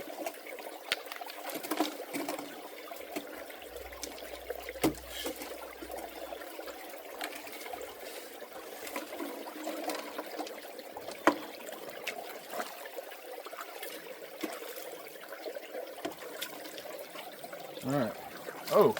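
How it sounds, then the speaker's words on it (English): Water flows steadily through a stream at a gold prospecting site, a continuous trickling and gurgling wash with occasional splashes, close by and alone without talk. "there was a lot of water moving through this stream right here"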